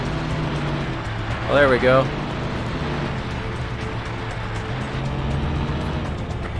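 A Humvee climbing a hill in Battlefield 2, a steady mid-level engine drone that runs throughout and rises gently toward the end, with a brief voice speaking over it early on.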